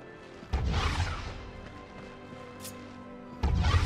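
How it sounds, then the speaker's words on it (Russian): Cannon fire in the video game Darksiders II: two heavy booming blasts with crashing impacts, separated by a few seconds, loud and punchy over a low ambient hum, with no talking. "Теперь юзаем пушку."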